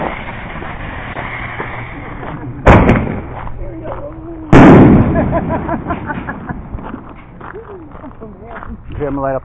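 Fourth of July fireworks going off outdoors: two loud, close booms a couple of seconds apart, with people talking and shouting throughout.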